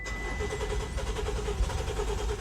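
A car engine runs rough on contaminated gasoline from a Castle Pines station, a close, uneven sputtering rumble with irregular pulses and stumbles throughout.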